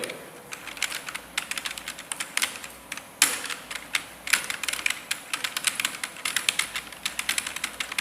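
Steady, rapid typing on a computer keyboard while connecting Python to MySQL, a dense run of close, crisp key clicks with a few louder strikes and brief pauses, alone without talk.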